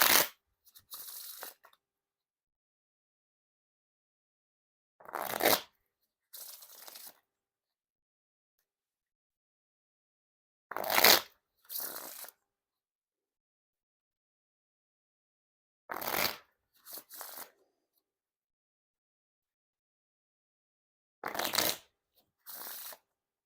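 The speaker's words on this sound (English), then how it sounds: "Now time for the riffle shuffle or bridge shuffle." Bicycle Prototype playing cards with an iridescent rainbow finish are riffle and bridge shuffled in five separate rounds, each a quick close crisp riffle burst followed by a softer bridge cascade, with silence in between.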